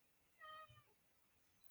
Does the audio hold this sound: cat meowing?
yes